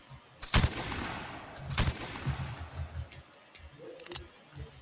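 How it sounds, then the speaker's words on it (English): Video game gunfire during an officer test: two sharp, heavy shot bursts followed by a run of lighter rapid reports and clicks, fairly faint and somewhat distant, with no voices. "Cam, you can help me shoot if you want."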